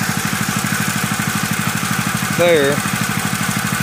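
An oversized water pump engine idles steadily at a highbanker on a gold mine creek, a close, even mechanical putter with a person briefly talking over it.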